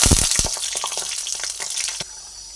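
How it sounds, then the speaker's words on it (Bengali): Lentil dumplings (bori) fry in mustard oil with a steady, close hiss of sizzling and bubbling, punctuated by sharper crackles and spatters, easing off toward the end. "বড়িগুলোকে এবার একটু লাল লাল করে ভেজে তুলে নেব"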